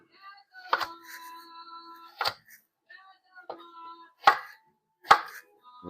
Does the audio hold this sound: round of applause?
no